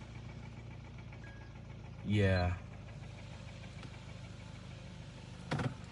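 A warmed-up car engine idles with a low, steady hum. The car is burning oil and has suspected valve lifter noise. A brief rising whine and a short word of speech break in.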